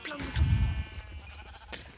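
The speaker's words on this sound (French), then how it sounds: "J'entends une tonne de moutons." Sheep bleat in a Minecraft game, several short cries near and far over a low ambient rumble, with a voice talking briefly over them.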